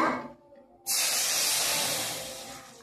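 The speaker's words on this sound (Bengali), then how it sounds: "বন্ধুরা এখন আমি কড়াইয়ে সামান্য একটু জল দিয়ে দেব।" A loud, sudden hiss erupts as a little water hits a hot wok, then sizzles steadily and slowly fades.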